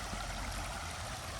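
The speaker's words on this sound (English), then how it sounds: "a little bit where the water's kind of running pretty quick" Water running quickly through a small creek at a little spillway, a steady broadband rushing burble that stays even and fairly close throughout, with no talking.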